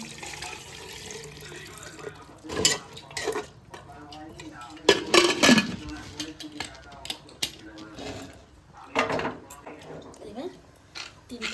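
Water is poured into a pressure cooker holding meat, splashing steadily, with pots and utensils clanking now and then, and a voice talking over it.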